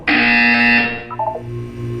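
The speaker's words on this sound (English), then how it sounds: "When you hear the buzzer, look down at the floor." A Portal 2 video game buzzer sounds once in a loud, steady electronic drone of under a second. It fades into quieter tonal blips and a low hum.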